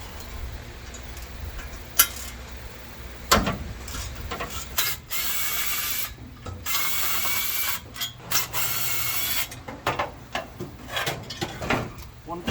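A ratchet works on the fan of a 1953 Chevy engine, giving bursts of rapid clicking strokes with pauses between them, close and fairly loud under workshop noise.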